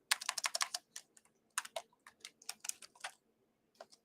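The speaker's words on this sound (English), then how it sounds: "Let me type it." Keys clatter on a computer keyboard in quick, uneven bursts of clicks with short pauses between, close and fairly quiet, no talking.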